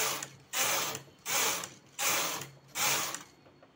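Knitting machine carriage running plain stitches on a designer sweater border, four sweeping ratcheting passes back and forth, each about half a second to a second long with short pauses between, close and moderately loud.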